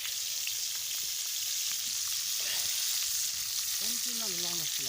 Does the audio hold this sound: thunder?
no